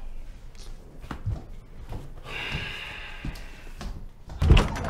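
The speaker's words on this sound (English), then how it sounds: "what you knocking at my door like you the goddamn police?" Several irregular thumps and knocks land on a back door indoors, with a scraping, sliding door-like rustle in the middle and a louder bump near the end, all at close range with no talking.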